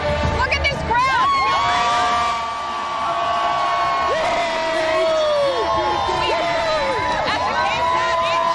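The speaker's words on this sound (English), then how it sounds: "Look at this crowd." A parade crowd at Fiesta Flambeau cheers loudly and continuously, with whoops, shouts and whistle-like cries rising over the dense roar, and people talking nearby.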